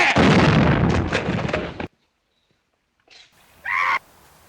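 A 20mm air rifle discharges with a loud, sharp report and a rushing roar that falls silent, followed by a couple of faint sounds afterward.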